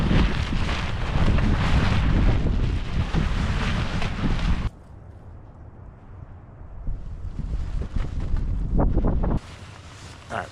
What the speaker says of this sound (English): when I want to go set up the tarp, the wind is just blowing at 100 miles an hour